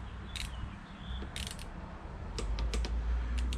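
Torque wrench on the cam cap bolts of a Yamaha WR400F engine, with a few sharp metallic clicks and ratchet ticks standing out over a quiet workshop background.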